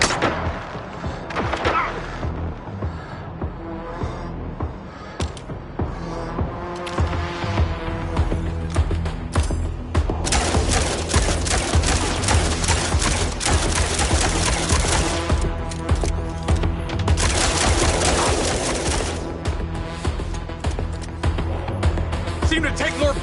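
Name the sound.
gunfire from the video game Mindseye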